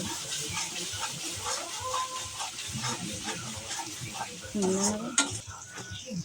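Chicken sautéing in a pan with boiled spices, turmeric added: a steady sizzle and hiss with scraping stirs and a metallic clink of a utensil against the pan near the end, fairly close, with brief voice sounds.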